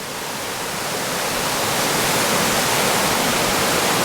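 Wildcat Creek in a volcanic gorge, swollen after rains, pours into Nook Pool with a loud, unbroken roar of rushing water heard up close, swelling slightly at first and then holding steady.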